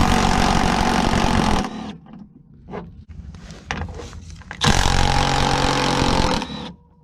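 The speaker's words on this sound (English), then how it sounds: "I'm using some electric tools." An electric impact tool with a 13mm socket removing bolts from a GT350 rear diffuser and bumper support, two loud sustained buzzing runs separated by shorter bursts and rattles, close and alone.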